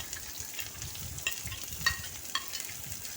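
Four large finely chopped onions sautéing in half a cup of olive oil in a hot pan: a soft, even sizzle runs throughout, with a few light stirring clicks, close and fairly quiet, no talk.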